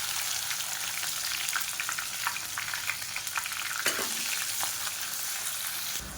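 Spices, onion and garlic fry in hot oil for a catering-style brinjal kulambu, giving a steady close sizzle with occasional stirring clinks and scrapes.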